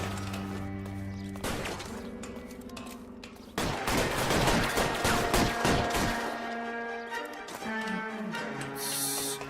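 Gunfire in L.A. Noire comes as repeated shots and a heavy volley over a bed of tense game music, loud and close, with some sharp cracks near the end.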